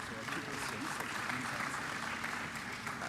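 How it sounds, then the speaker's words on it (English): Conference attendees applaud a panel of speakers, a fairly faint, continuous patter of clapping with some murmuring voices underneath. "a round of applause to our panel"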